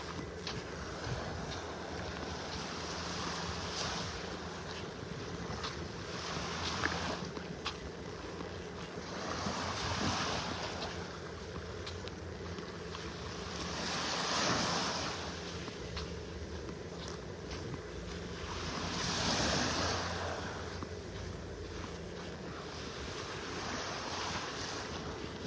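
Gulf waves on Vanderbilt Beach in North Naples, Florida, wash in and out in slow, swelling surges on a morning walk, steady surf with gusty wind buffeting the microphone throughout.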